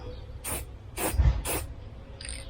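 Three short, loud bursts of aerosol spray paint hiss out in even succession over a taped Honda CR-Z taillight overlay, followed by a fainter brief hiss at the end.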